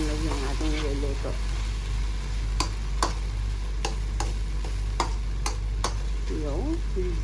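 Beef with broccoli stems stir-fried in a pan over medium heat: a steady sizzle under talk, with a run of distinct spatula taps and scrapes against the pan.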